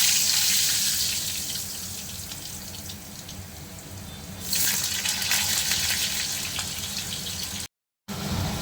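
Potatoes are dropped into hot oil tempered with bay leaf and dried chilli for a Bengali doi fulkopi dish. A steady bright hiss swells louder partway through, then cuts out briefly near the end.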